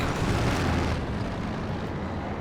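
A heavy, roaring rumble of air strike explosions in the World War II strategy game Company of Heroes 2, loud and sustained at first, then settling into a broad rolling boom.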